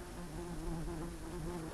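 Honey bees swarm around a beekeeper at the hive, a steady, close, droning buzz that holds without a break and has no voices over it.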